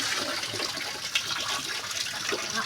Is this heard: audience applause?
no